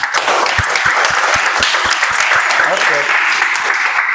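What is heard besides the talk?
audience applause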